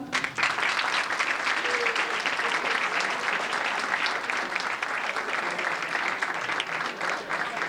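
Steady applause from a graduation ceremony audience, dense and continuous clapping filling the room at close range for several seconds without pause.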